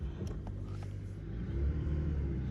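A Fiat Panda 4x4 drives in four-wheel drive in super low first gear, giving a steady low engine and drivetrain rumble that swells slightly louder partway through, with no talk over it.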